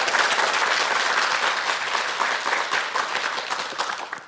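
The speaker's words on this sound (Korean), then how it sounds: "자, 박수." An audience at a talk-show lecture breaks into loud, dense applause that holds steady for a few seconds, then gradually loosens into more scattered clapping.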